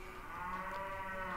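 A cow moos in one low, drawn-out, droning call from the video game Miitopia. It is heard alone and sounds fairly faint.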